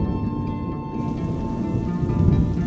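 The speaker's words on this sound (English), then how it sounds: "It's raining tonight too, and it was raining that night." Rain falls at night in an animated story, a steady close hiss of drops with a low rumbling undertone, continuous and unbroken throughout without any voices.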